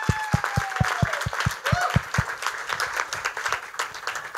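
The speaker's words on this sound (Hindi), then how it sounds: "पहली बात सबसे ज़्यादा तालियां हो जाए" An audience applauds after a stage play, a moderately loud crowd clapping with a sharp, rhythmic clap near the front at first, while voices and cheers rise through it.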